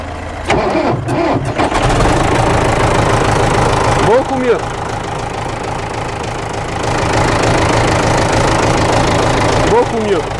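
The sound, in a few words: 2250 tractor engine idling with new silencer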